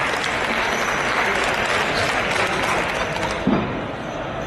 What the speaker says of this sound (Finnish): Isot aplodit annetaan.